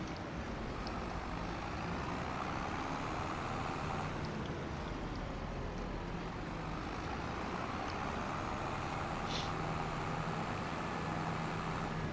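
Road train truck driving in Farming Simulator 25, a low steady engine rumble and rolling road noise throughout, moderate and continuous with no talking.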